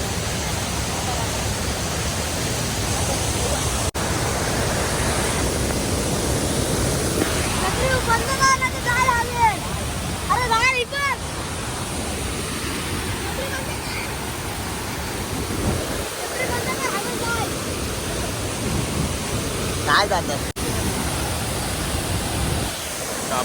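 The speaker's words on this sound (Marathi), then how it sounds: "बघा धबधबा आहे पूर्ण पाणी उडते" A Konkan waterfall in Lanja, Ratnagiri, roars as a steady, broadband rush of falling and spraying water, close and loud throughout, with a voice speaking briefly over it.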